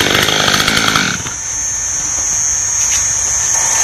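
A chainsaw felling a nearly 15-metre tree trunk roars loudly at full throttle for about a second, then drops to a steadier, lower whine as it keeps running, close by with no talking.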